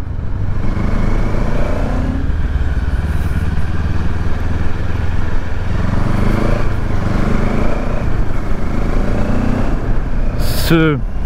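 A QJ Motor SRK700 motorcycle engine runs loud and close while accelerating on a gravelly farm road, its tone climbing in pitch through the gears over constant wind roar.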